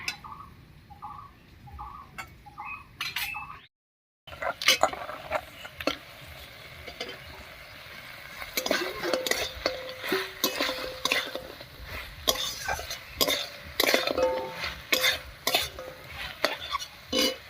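A spoon repeatedly scrapes and stirs fried lentil dumplings (bori) and brinjal into dheki fern greens cooking with spice paste in a pan, with soft sizzling throughout; the sound drops out briefly near the start, then the stirring resumes, close and steady.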